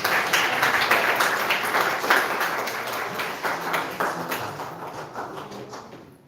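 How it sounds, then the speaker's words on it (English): Mourners at a memorial service break into a round of applause, a close, lively patter of many hands that holds steady, then thins and fades toward the end. "Let's give them that round of applause."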